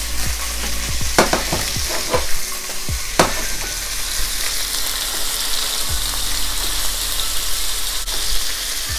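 Beef pieces for a spicy Georgian chashushuli stew sear and brown in a pan, a steady loud sizzle with scraping stirring clatters and spatula knocks throughout, no talking.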